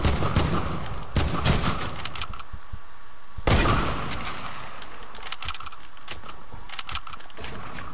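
Rapid bursts of gunfire in a video game, with one loud volley early and another around the midpoint, then scattered shots of varying loudness continuing throughout.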